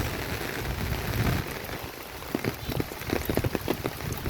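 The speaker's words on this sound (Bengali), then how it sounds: "বৃষ্টি হচ্ছে শুধু বৃষ্টি আর বৃষ্টি" Heavy rain pours steadily, drumming on surfaces with a dense hiss and scattered louder drops.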